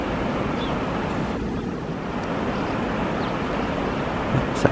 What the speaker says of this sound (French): Sacrée cascade.